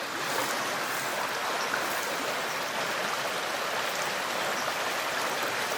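River water rushes in a steady, broadband flow as it turns a corner of the river, close and continuous, with no voices.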